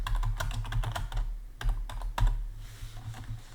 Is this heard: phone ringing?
no